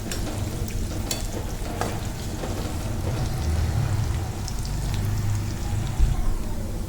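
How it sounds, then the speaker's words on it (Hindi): Cashews and raisins frying in oil for a half minute, a steady close hiss and sizzle with soft stirring, with no talking over it. "इनको हल्का सा आधे मिनट के लिए थोड़ा सा ऑयल में फ्राई कर लेंगे"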